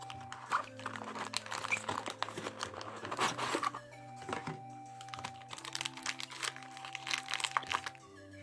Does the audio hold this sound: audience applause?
no